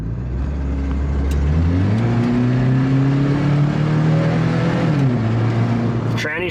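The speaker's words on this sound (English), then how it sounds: "And then I just drop it into drive and drive it like that." A car with an automatic transmission is dropped into drive and pulls away, its engine rising steadily in pitch through smooth gear changes, close and continuous, with a brief whine near the end.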